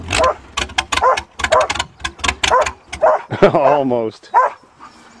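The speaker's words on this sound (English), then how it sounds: "You're teasing the dog." A farm dog yips, barks and whimpers while being teased. Its short, high cries and whines are mixed in with people talking close by.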